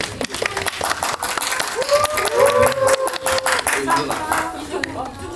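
An audience at a film festival Q&A in Jeonju applauds with dense, continuous clapping and some crowd noise throughout.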